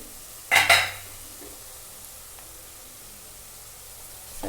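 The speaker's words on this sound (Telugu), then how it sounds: "ఉల్లిపాయ ముక్కలు ఏగినాయో చూద్దామండి ఇంకా ఏగలేదు ఇంకా ఏగాలి బాగా ఒకసారి కలుపుకుందామండి" Onion pieces fry in a pan for a fish curry, with one brief loud clatter of a spoon stirring near the start, then a faint steady sizzle alone.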